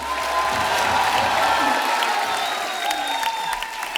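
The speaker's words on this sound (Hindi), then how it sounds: "जोरदार तालियां हो जाए अनिल सर और नीतू जी के लिए।" Studio audience applause and cheering for celebrity guests arriving on stage at a TV comedy show, a dense sustained roar of clapping and cheers that stays loud throughout and eases slightly near the end.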